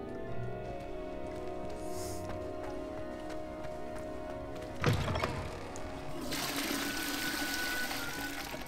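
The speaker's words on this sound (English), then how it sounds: "Yeah, you can flush the toilets." A toilet flushes inside the video game Hogwarts Legacy: a sharp clunk of the handle, then a rising rush and gurgle of water that carries on loudly to the end.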